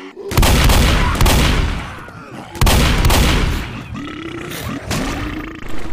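Gunfire rings out in the zombie shooter Left 4 Dead as loud, dense bursts that keep breaking off and starting again, with grunting and roars from the game mixed in among the shots.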